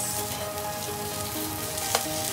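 Seafood cup noodles and kimchi sizzle as they are stir-fried in a hot pan, a steady close crackle with a brief scrape of stirring near the end.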